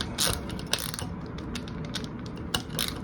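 Screwdriver turning a terminal screw while an electrical outlet is replaced, giving a few quick ratcheting clicks and scrapes, close and fairly quiet, with no talk.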